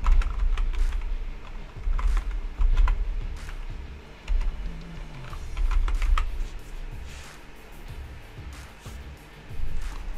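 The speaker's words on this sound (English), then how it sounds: "And just type the name you want." Typing on a computer keyboard: rapid, uneven bursts of light clicking keys with short pauses, close and moderately quiet, no talking.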